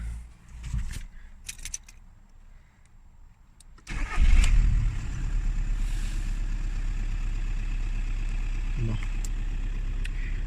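A VW Golf 4 1.9 TDI turbo diesel cranks briefly and fires up, then settles into a steady, loud close-up idle with a low clatter, after some quiet handling noises.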